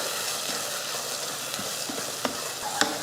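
Ground masala paste fries in oil with a steady, fairly loud sizzle, punctuated by a couple of quick stirring scrapes near the end, with no voices.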